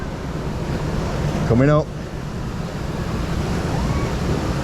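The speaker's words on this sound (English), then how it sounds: "we've got some waterfalls down here as well" Rushing water and surf-like roar fill the Piranha river rapids raft ride at Efteling, a steady outdoor wash with wind buffeting, and a voice briefly talks over it near the middle.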